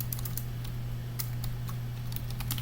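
Soft keystrokes on a computer keyboard while programming in PHP, a quick irregular patter of taps close by over a steady low hum.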